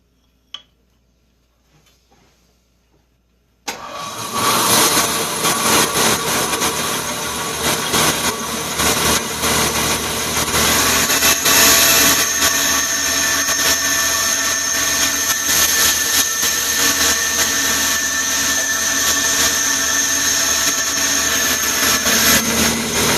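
A saw blade cuts through soapstone to shape a wedge pipe, starting abruptly after a short quiet lead-in and then running as a loud, steady, continuous grinding whir with no talk.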